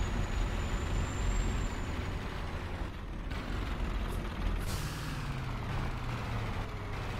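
Kamaz 5410 truck in Euro Truck Simulator 2 braking to a stop, a steady loud engine and road rumble with an air-brake hiss and release partway through, heard alone.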